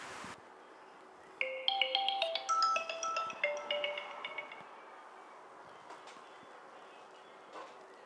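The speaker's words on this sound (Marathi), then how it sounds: "दादालाच फोन लावतो." A mobile phone rings with a bright melodic tune that starts abruptly, loops through a short sequence of chiming notes for a few seconds and then fades out, over a quiet indoor background.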